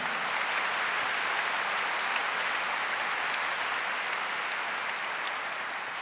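A church congregation applauds during a Catholic prayer service, a dense, even wash of clapping that holds steady from start to finish without a break.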